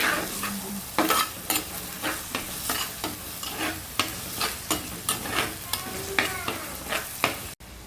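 Crushed ginger, garlic and small tamarind fry in hot oil for a crab curry, a steady sizzle broken by regular scraping stir strokes roughly every half second, close and clear with no talking.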